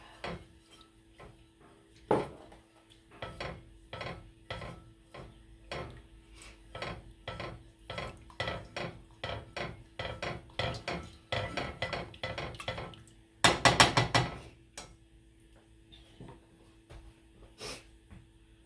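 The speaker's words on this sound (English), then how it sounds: "Whisk that all up" Ingredients for pineapple gravy are whisked in a bowl, giving a long run of quick, rhythmic clicking and scraping strokes that build to a brief, faster burst near the end, close and fairly quiet.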